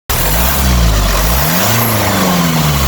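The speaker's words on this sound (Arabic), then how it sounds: "كاينه واحد التنفيسه غير طبيعيه داخل المحرك" A car engine with an abnormal breathing leak inside the motor idles and surges loudly close up, a harsh steady drone that dips and recovers, with no talking.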